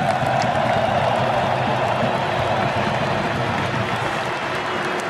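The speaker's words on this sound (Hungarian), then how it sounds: "még egy hatalmas tapsot nekik" Roughly 65,000 Hungarian football fans fill a stadium with steady, loud applause and cheering for the team staff, a dense, continuous roar of clapping and crowd noise throughout.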